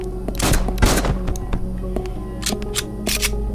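Player gunfire in the video game Haydee, a series of sharp shots in irregular bursts, some in quick double and triple clusters, loud and close over a low steady hum.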